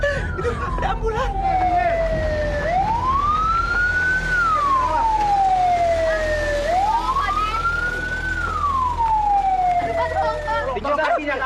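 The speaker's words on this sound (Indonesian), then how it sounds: "Itu ada ambulan." An ambulance siren wails, sweeping slowly up and down in long, loud cycles, steady and close, with faint voices and traffic noise underneath.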